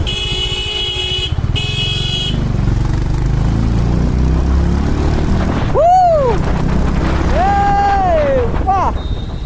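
A Honda Hyness CB350 motorcycle engine rumbles up close with a low, throbbing beat, short bright horn-like tones at the start and rising-and-falling rev sweeps toward the end.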